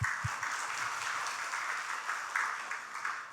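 A congregation in a Korean church claps during a worship service honouring its group leaders, a steady, fairly faint wash of applause heard from a distance that continues throughout.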